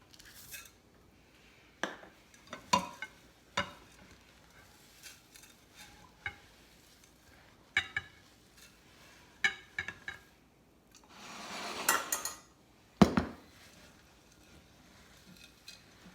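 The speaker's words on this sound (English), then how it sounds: "I'm just going to keep mixing till it's all combined" A spoon stirs a no-bake treat mixture with mini chocolate chips in a bowl, giving irregular soft scrapes and clinks with a brief rustle, close and fairly quiet.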